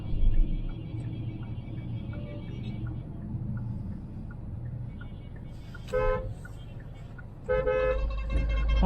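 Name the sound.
Hyundai Creta diesel car horn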